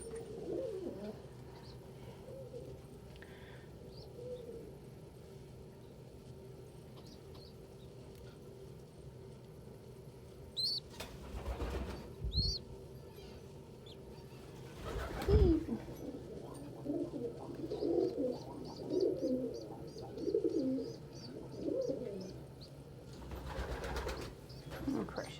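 Pigeons or doves cooing close by at a breakfast feeding, with soft coos, scattered chirps and a few sharp bursts of wing flapping, amid handling noises and no speech.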